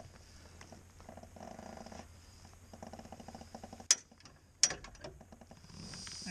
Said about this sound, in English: This is just like the thing they use at the tire shop. This is just a machine. It's hydraulic.